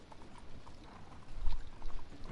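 Horse hooves clip-clop in Red Dead Online, a quick, uneven patter of hoofbeats over dirt, moderately loud and growing heavier toward the end, with no talk.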